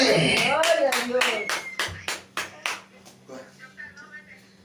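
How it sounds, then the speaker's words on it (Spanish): A congregation at a church service claps in response to a pastor, a dense burst of hand claps that breaks into a run of distinct, evenly spaced claps and then fades into scattered, softer ones. "Den un aplauso al que viva su nombre"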